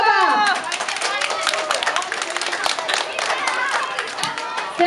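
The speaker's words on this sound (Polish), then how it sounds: "Brawa!" Clapping from a crowd of parents and teachers at a school Children's Day charity event, dense and lively with chatter and voices mixed in throughout.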